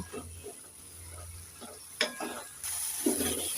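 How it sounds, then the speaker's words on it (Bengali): Potato, eggplant and leafy greens stir-fried in a pan for a Bengali lunch dish, with a steady soft sizzle broken by a few scraping stirs and a sharper clatter near the end. "এবার নেড়ে চেড়ে আলু বেগুন শাকটাকে ভালো করে দু তিন মিনিট ভেজে নেব"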